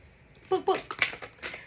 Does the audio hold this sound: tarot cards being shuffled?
yes